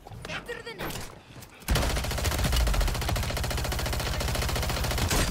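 Gunfire in the shooter Warzone: after a short quieter stretch, a loud, sustained rapid-fire burst of automatic shots runs continuously to the end, with a voice briefly heard early on.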